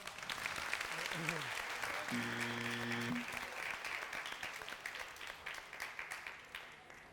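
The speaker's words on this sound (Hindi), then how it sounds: "इनका हौसला बढ़ाइए जरा, तालियां" A studio audience on a Ramadan debate show applauds to encourage a nervous participant, dense sustained clapping with brief tonal sounds and a voice in the middle, thinning into scattered claps at the end.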